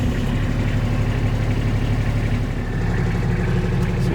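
A Kubota RTV-X1100C utility vehicle engine idling steadily, a low, even rumble close by, with no pauses throughout.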